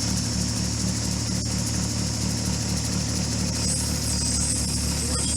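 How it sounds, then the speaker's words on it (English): A lapidary grinding wheel of 220 grit runs while shaping an Apache tear stone, giving a steady motor drone with a faint rhythmic pulsing throughout, close and continuous. "So now we'll take it over to the 220 grit wheel."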